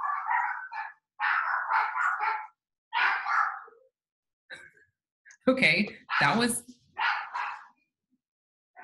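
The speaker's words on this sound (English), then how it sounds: "that was an interesting interlude of dog barking" A dog barks repeatedly in loud, close bursts, several rapid barks in clusters with short pauses, while a person speaks briefly between them.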